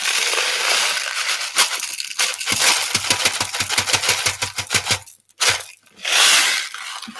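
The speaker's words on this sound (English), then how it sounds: "I'm going to put in some sugar to sweeten up the situation" Sugar is poured and scraped into a spell mixture, giving close, gritty crunching and rustling with a rapid rattling patter in the middle, then a brief pause and a final soft rush.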